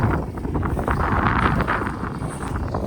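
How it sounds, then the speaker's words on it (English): Wind buffets a microphone outdoors on a Nebraska day with a slight northwest breeze, a loud continuous rumble and rustle with no break. "Slight wind out of the northwest."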